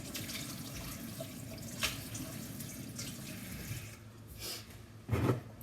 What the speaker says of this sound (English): Make sure you wash them out really good.